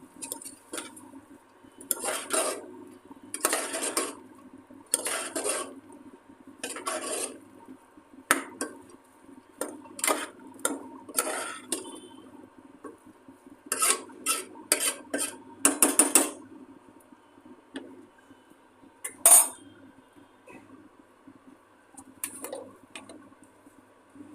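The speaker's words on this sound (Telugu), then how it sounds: "ఇప్పుడు ఒకసారి మొత్తం కలపాలి" Spoon scraping and clattering against a metal pot while beans and toor dal curry is mixed, in irregular bursts of stirring knocks with short pauses, fairly close and with no talk.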